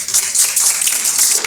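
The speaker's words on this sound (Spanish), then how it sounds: "fuerte las palmas" An audience at a school literature presentation claps in applause, a loud, dense patter of hands that holds steady for a moment without fading.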